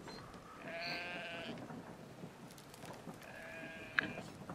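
Sheep bleat in the video game Brothers: A Tale of Two Sons, two drawn-out wavering calls of moderate loudness, one early and one later, over a low rumbling ambient background with no talk.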